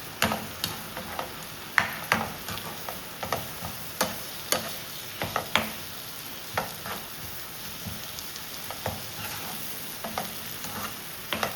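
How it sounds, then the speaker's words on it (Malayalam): Eggs fry in a pan while a spoon stirs and scrapes them in a regular, repeated rhythm of distinct strokes over a continuous moderate sizzle. "ഞാൻ ഇളക്കി കൊടുക്കുക. ഇളക്കി നമ്മൾ സാധാരണ പൊരിച്ചെടുക്കുന്ന പോലെ പൊരിച്ചെടുക്കണം."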